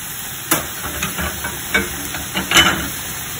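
Canned mixed beans are stirred into a tomato sauce with onions and capsicum in a pan, giving a soft sizzle under scattered scraping and clinking of the spoon, close and fairly quiet.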